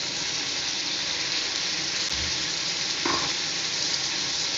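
Beans sizzle steadily in a hot pan while being stirred for a semiya dish, a dense, even frying hiss with an occasional scrape of the spoon, close and without talk.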